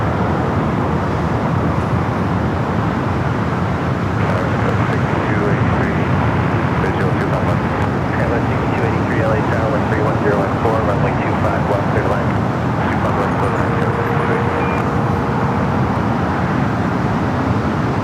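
Jet airliners idle and taxi at Los Angeles International Airport, including a Singapore aircraft and an A380 on a taxiway, giving a steady distant engine rumble and whine under a commentator's voice.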